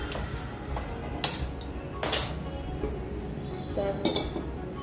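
A metal kadai is set down on a kitchen stove while cooking bhat karela pur, giving a few sharp clanks and clinks spread over several seconds against a low background hum.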